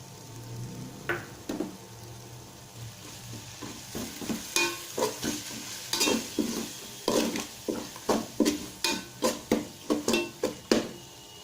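Tomatoes sautéing in a pan with chilli powder, coriander powder and biryani masala for chicken dum biryani: a steady sizzle under a rhythmic series of stirring scrapes and clinks that grow louder and quicker toward the end.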